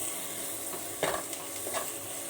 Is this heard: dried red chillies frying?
yes